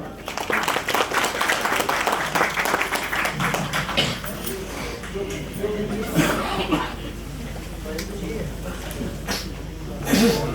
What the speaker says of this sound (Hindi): आगे मौजूद भरपूर तालियों में मोहम्मद फरूक खान साहब।